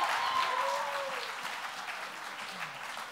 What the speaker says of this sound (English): And keep that applause going